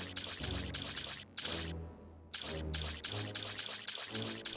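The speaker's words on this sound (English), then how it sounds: "it makes this cartoony splish-splash sound when you run through it" In Jet Force Gemini, running through lava makes a cartoony splish-splash: a steady, bright splashing trickle that drops out briefly twice before picking up again.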